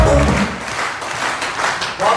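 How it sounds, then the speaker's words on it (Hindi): An audience breaks into loud, continuous applause at a Safe Shop gathering in Chennai, with the clapping holding steady for about two seconds while voices mingle through it. "जोरदार ताली बजाओ।"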